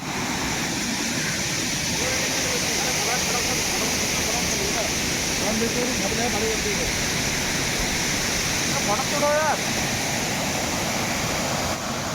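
The Barati Rao waterfall near Ramnagar, Uttarakhand, roars in a loud, steady, unbroken rush of falling water close by, with faint voices barely rising above it.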